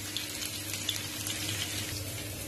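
Water poured into a cooking pot of simmering curry in a home kitchen, a steady soft rushing stream running for a couple of seconds, fairly quiet and close with no talk.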